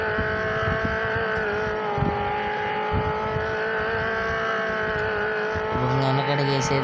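A vehicle engine revs steadily and loudly throughout, with a sustained harmonic drone that shifts pitch near the end, sounding close and continuous with no one talking.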